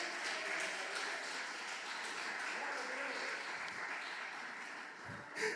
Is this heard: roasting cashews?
no